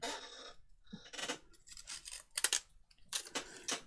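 Scissors snip through paper for a junk journal, a series of crisp close cuts in quick irregular succession, with a soft clack of the blades between strokes.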